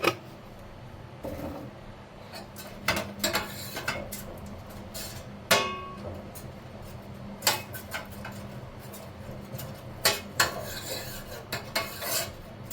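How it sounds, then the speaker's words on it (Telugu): A spoon spreads a tablespoon of buffalo ghee over a plate while preparing besan barfi, giving intermittent scraping and clinking strokes against the plate, close and fairly soft, with no talking. "గీ మొత్తం స్ప్రెడ్ చేసి"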